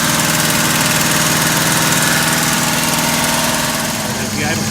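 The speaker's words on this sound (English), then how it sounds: "I'm going to let it idle for a while and see what the extent of that is" A 1967 Pontiac Bonneville station wagon V8 idles loudly and steadily up close, its noisy top end giving a rapid, even ticking rattle over the deep rumble, with no talking.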